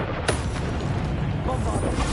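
Bombarda blasting spell going off in the Hogwarts Legacy video game on PS5: a sharp explosive burst early on, then dense, rumbling battle noise that continues loudly throughout.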